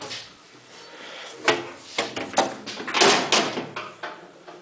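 Stainless steel lid of a Biro EMG-32 commercial butcher shop meat mixer grinder being opened, a series of close metallic knocks, clanks and scrapes with no talking.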